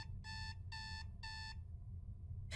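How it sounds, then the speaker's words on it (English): A video-game alarm clock in Is Simon There? sounds three even bursts of bright electronic beeping, faint over a low rumbling background hum, with no talking. "that's the alarm clock for some reason"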